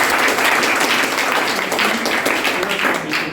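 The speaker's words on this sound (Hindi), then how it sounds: "एक बार जोरदार तालियां बजाइए" Dense, steady applause from a large crowd of school students, loud and continuous throughout.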